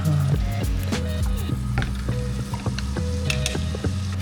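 Rendered salmon fat and butter fry together in a pan as the base of a creamy lemon sauce, a steady close sizzle broken by small popping crackles throughout.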